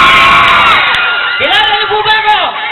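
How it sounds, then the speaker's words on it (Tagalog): A show crowd greets a Talentadong Pinoy performer with loud shouting and cheering: layered whoops and bellowed yells swell together in one sustained burst of excited voices. "At lalong hindi po ako magsisimula hanggat walang sigawan."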